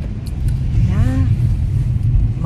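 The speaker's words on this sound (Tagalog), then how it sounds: "Mukhang maraming potholes at umuuga-uga tayo." Low, continuous rumble from inside a car jolting over potholes, a heavy vibrating drone throughout with a brief voice speaking partway through.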